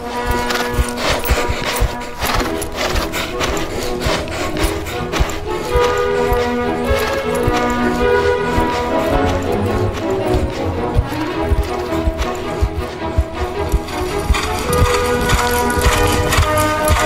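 Horse hooves beating out rhythmic clip-clop during piaffe and piaffe pirouette dressage movements, a steady repeated pattern partly buried under loud continuous music.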